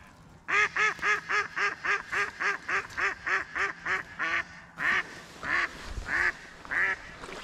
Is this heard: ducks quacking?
yes